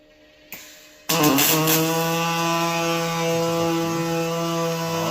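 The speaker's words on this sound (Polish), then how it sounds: "uruchomimy spawanie" An AI-guided robotic welder following a weld groove starts with a click, then a loud, steady buzzing drone with a strong tonal hum that holds through to the end.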